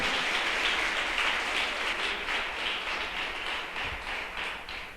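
Sustained applause fills a church as the congregation claps for God during a sermon, a dense, even wash of many hands that holds steady for several seconds and thins slightly toward the end.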